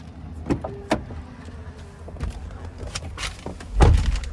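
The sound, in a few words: getting into driver's seat of 2017 Chevrolet Tahoe, door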